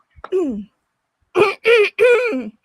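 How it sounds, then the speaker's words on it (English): Someone clears their throat in a short rasp, then gives a few harsher, gravelly throat-clearing bursts close up. "let me clear my throat here"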